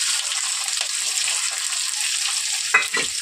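Onions and bay leaves fry in hot oil with a steady, close sizzle and crackle throughout, and a couple of brief louder spits near the end.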